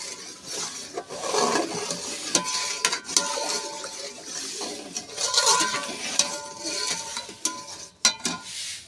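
Rice being stirred in a pot with water and green chillies for a prawn biryani, giving repeated scraping and sloshing strokes with light clinks of the spoon against the pot, close and steady throughout.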